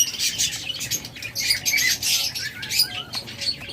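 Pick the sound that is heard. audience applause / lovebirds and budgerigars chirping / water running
lovebirds and budgerigars chirping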